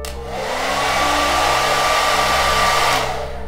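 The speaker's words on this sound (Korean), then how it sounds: "자, 이 헤어드라이기도 키면요" A hair dryer switches on and blows with a loud, steady whoosh and hum for a few seconds, then cuts off.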